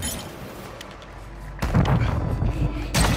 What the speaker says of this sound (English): Who the fuck are you shooting at?